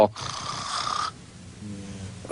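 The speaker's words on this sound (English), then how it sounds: "my snoring dog that you guys hear in the background" A dog snoring, with a harsh, breathy inhale rising then fading, followed by quieter low rumbling breath; close and fairly steady.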